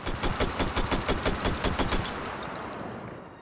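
A fast, even string of about a dozen semi-automatic gunshots fired in the VR shooter Hot Dogs, Horseshoes & Hand Grenades, crisp and close, then a fading ring as the shooting stops.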